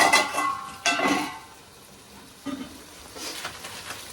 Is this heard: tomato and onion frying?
yes